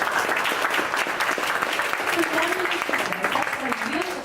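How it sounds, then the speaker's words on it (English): A meeting-room audience at a public-speaking club event breaks into sustained applause, a dense clatter of many hands at steady volume, with a voice and a few cheers faintly audible underneath. "I think they deserve a huge round of applause."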